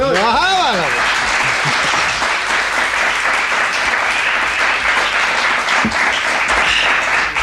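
An audience bursts into dense, loud, continuous applause that fills the whole stretch, following a brief spoken voice at the very start.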